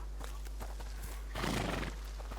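Horses neigh and snort in the video game A Plague Tale, with soft snuffling breaths and one louder, rising whinny in the middle, close and clear.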